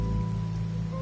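Steady rain patters on a surface, a continuous even hiss with a faint low hum beneath it and no voices.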